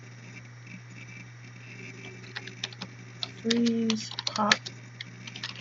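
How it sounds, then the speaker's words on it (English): Quick patter of keys tapped on a computer keyboard, a fast run of light clicks close to the mic over a steady low hum, with a short spoken word among them. "Let me type in"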